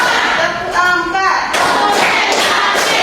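Rhythmic hand claps from an ice-breaking counting game in a classroom, a few sharp claps mixed with a voice talking over them.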